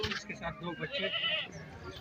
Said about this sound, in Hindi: ये देख लें, ये बकरी है भाई, ये थन वाली बकरी, दूध है इसके अंदर